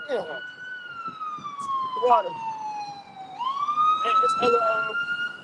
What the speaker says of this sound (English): It's hella ambulance today.